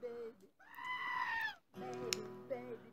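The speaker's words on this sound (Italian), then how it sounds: "Ho messo una capra." A goat bleats in a video game meme: two wavering, nasal cries a moment apart, the first long and rising, the second shakier, clear and fairly close.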